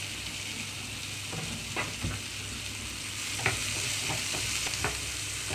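Chopped capsicum frying in a pan over a low flame, with a continuous gentle sizzle and a few scattered spatula scrapes and taps, close and moderately quiet.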